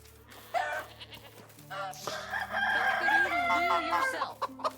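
A rooster crows loudly and close by, its drawn-out call rising and wavering after a few short clucks, with other farm birds faintly around it.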